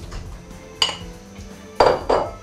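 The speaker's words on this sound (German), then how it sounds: "jetzt gebe ich die Kartoffeln in die Pfanne" A few sharp clattering bursts as potatoes drop into hot oil in a pan, with a faint background hiss between them.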